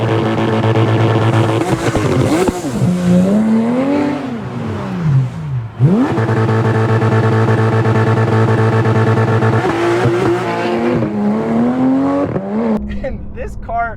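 A 2014 Porsche GT3's naturally aspirated flat-six revving toward 9,000 RPM, loud rising and falling wails repeated through several gear changes, with a brief dip in between and voices heard over the engine.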